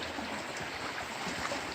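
Arquilla Creek, a clean, sediment-free stream by a small bridge in Manistee National Forest, makes a steady, soft, broadband rush of flowing water with no voices.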